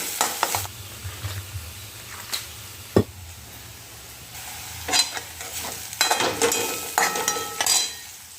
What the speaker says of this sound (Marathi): ह्या इकडं मी कांदा परतायला ठेवलेला आहे